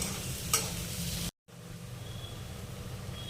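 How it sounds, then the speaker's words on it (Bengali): Chopped onion fries in oil in a pan for a mustard fish curry, a soft even sizzle with a single stir scrape early on and a brief dropout to silence midway, close and fairly quiet. "এবার পেঁয়াজটা হালকা লাল করে একটু ভেজে নিতে হবে।"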